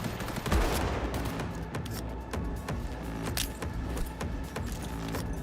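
Gunfire in the video game Cyberpunk 2077: rapid, overlapping shots crackle steadily for the whole stretch, loud and close within a dense mix of game sound.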